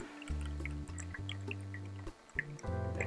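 Soy sauce poured into a measuring cup to fill a full cup, with drips and a steady liquid stream running close by and fairly quiet, shifting in tone as the cup fills.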